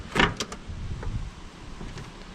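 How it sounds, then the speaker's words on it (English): A Range Rover door swings shut with one firm, close thud near the start, followed by a couple of lighter clicks and a faint mechanical whir. "That door closes nice."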